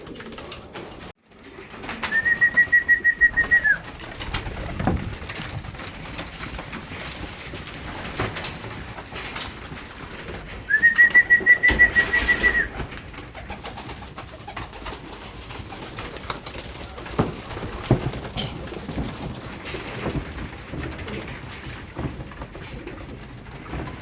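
Racing pigeons being fed in their loft the day after a race, with a soft steady background of cooing, light rustling and scattered pecking taps. Two brief brighter warbling calls stand out partway through, and no one speaks.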